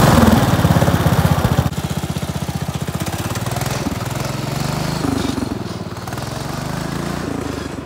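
A racing lawn mower with a semi-automatic transmission and 20-inch tires drives past with a loud, rapid engine putter. The pulsing exhaust changes pitch as it revs and shifts, close and continuous.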